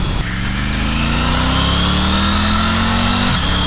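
A 2023 Triumph Tiger 900 Rally Pro engine pulling hard, a loud steady drone whose pitch climbs smoothly through a gear, then dips briefly as the rider shifts.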